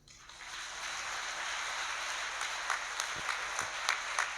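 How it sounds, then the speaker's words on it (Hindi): A church congregation at a prayer meeting claps with both hands raised, and the applause swells from a quiet start into a steady wash of clapping, with a few sharper individual claps standing out near the end. "दोनों हाथ ऊपर करके ताली बजा सकते हैं"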